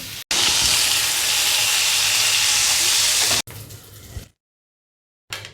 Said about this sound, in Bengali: পটল আলু ভাজা হয়ে গেল চিংড়ি মাছও ভাজা হয়ে গেছে